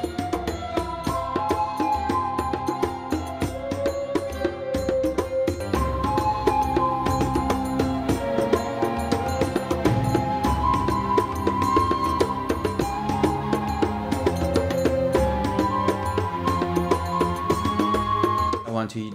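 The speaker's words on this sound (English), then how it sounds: "we add a flute melody and we add percussion bells as a little bit of a signifier that stuff has happened." Game soundtrack music from Legends of Libra layering a flute melody over continuous percussion and bell accents, dense and steady throughout with no voices.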